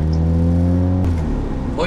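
A Mazda RX7 engine idles with a steady low hum, then revs briefly as the car pulls off, heard from inside the cabin with a short spoken remark and no other clear sounds.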